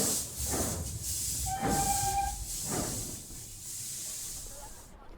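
A steady hiss of escaping steam from a train runs throughout, with a brief whistle-like tone in the middle and rumbling train noise underneath.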